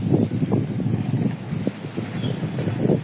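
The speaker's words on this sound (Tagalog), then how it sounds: "Lakas ng hangin." Strong wind buffeting the microphone outdoors at around six in the evening, a steady low rumbling roar with gusty swells throughout and no talk.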